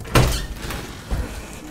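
A door opening indoors gives a sharp thump at the start, then a softer knock or bump about a second later, both close by with faint room noise between.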